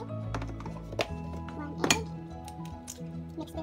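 A spoon clinks and scrapes against a bowl while sauce ingredients and a tablespoon of cornstarch are stirred together for a homemade teriyaki sauce, with irregular light taps and a soft, low background.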